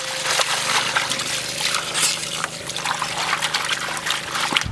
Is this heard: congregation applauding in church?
no